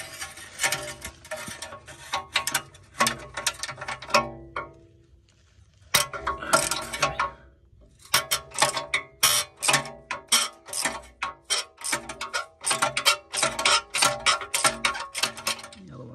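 Ratchet wrench turning a 14mm socket on a long chain of extensions while removing a Ford BA/BF XR6 Barra engine, with rapid, close clicking bursts and metallic clinks, briefly pausing twice before resuming steady ratcheting.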